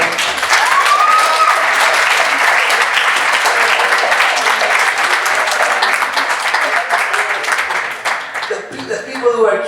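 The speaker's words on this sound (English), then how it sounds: "please, everybody, give a round of applause to the Wave Growth people who made it happen" Loud, continuous audience applause for the Wave Growth team at a World Café night event at Manggha in Krakow, dense and even for most of the stretch, thinning toward the end as voices and a few whoops come through.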